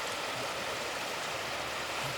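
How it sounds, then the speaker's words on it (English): Water trickling over and through the stonework of a stream in Scotland or the Lake District, a steady close hiss and babble with no breaks and no voices. "water trickling through here"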